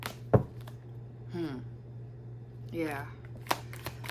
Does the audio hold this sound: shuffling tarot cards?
yes